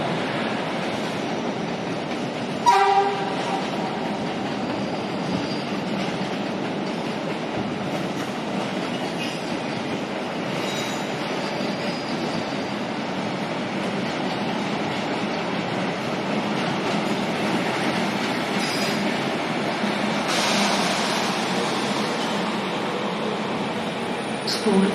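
A high-speed Thalys or ICE train rolls through Brussels-North station, a steady rumbling rail noise with faint wheel squeal and a few clanks, heard at moderate distance throughout.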